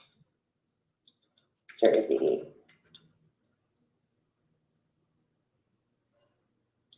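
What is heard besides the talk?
typing on a computer keyboard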